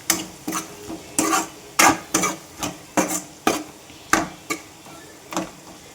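A spoon or spatula mixes curry leaves and spicy masala in a cooking pan, giving regular scraping strokes about twice a second that are loud and close, with no voices.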